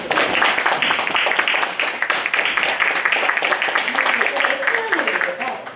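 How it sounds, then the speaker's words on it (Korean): Audience applause fills a small theatre at a traditional performing arts evening, greeting a premiere of a Korean folk drum dance. The clapping is dense and steady for the full stretch, with a voice heard over it. "박수 한번 부탁드립니다."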